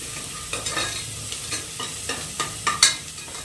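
Onion and tomato masala frying in hot oil in a pan, stirred with a spoon: a steady close sizzle broken by repeated scraping strokes and a few sharper clinks, with no talking.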